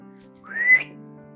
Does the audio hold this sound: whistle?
yes